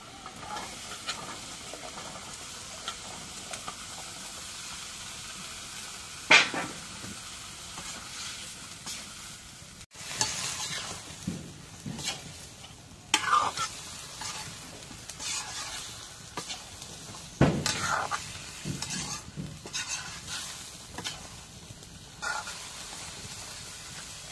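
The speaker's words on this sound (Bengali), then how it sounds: "তরকারিগুলো দিই, একবারে সব কিছু দিয়ে কষানি করে নিই।" Vegetables sauté in spiced masala in a pan, with a soft continuous sizzle broken by irregular scraping stirs and clatters of the spoon, close and fairly quiet throughout.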